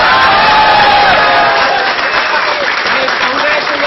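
Scientists applaud after a successful missile test in India, a dense, steady wash of clapping with some cheering, sustained and fairly loud throughout.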